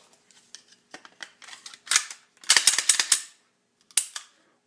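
A Walther PPQ pistol is put back together after field stripping, giving close, sharp metallic clicks and sliding snaps in irregular bursts as parts seat and the slide is worked.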